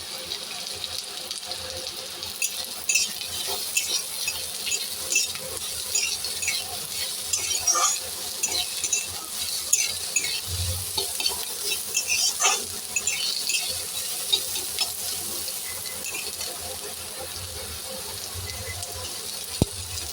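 Beetroot and carrot stir-frying in a pan for spring egg rolls, a continuous hissing sizzle with scattered soft stirring scrapes and clinks, close and steady throughout.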